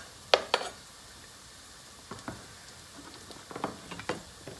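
Garlic cooking in a pot for albondigas soup gives a soft background sizzle, with several sharp clinks and scrapes of a utensil against the pot scattered throughout, close by and fairly quiet.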